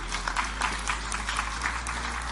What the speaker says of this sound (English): That's a good place to clap, yeah.